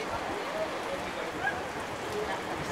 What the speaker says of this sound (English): we will wait for this rain to stop and then we can continue